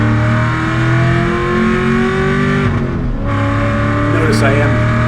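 Supercharged Chevrolet Corvette Stingray accelerating hard on the NCM Motorsport Park race track, a loud continuous engine roar with rising and shifting pitch, heard from inside the car under a voice.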